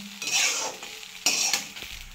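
Lemon rice stir-fried in a pan, with two bursts of loud close sizzling and stirring and light utensil scrapes between them, with no voices.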